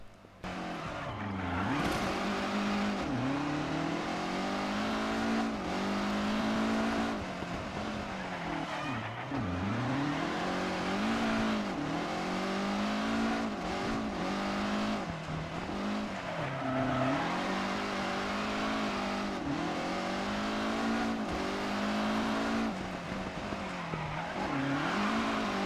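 A rally car in WRC 9 revs hard and corners fast, with the engine pitch climbing and dropping through gear changes and braking. The engine is loud and close and runs almost without a break.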